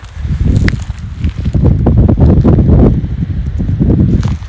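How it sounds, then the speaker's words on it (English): Strong, steady wind gusting around a hiker on the rocky slopes of Wedge Mountain in Crowsnest Pass, Alberta, a loud continuous low rush with rustling and footstep-like crunches mixed in, no talking. "the wind sure has picked up"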